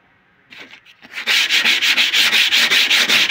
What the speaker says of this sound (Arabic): ناخد صنفرة 60